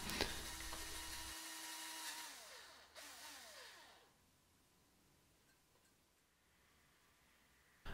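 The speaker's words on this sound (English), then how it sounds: "I'm just gonna go ahead and drill my eye sockets at this point" A small drill bores eye sockets into a wooden fishing lure body, a steady high whine for about two seconds that drops away in a falling pitch as the bit slows, leaving faint quiet handling noise.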